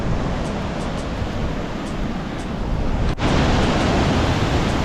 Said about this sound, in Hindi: सामने देखिए कितना प्यारा झरना आ रहा है नीचे और यही नीचे तक जा रहा है।